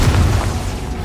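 A Confringo fire spell bursts in the Hogwarts Legacy video game as a loud, heavy explosive boom with a rumbling low body that fades slightly over about a second.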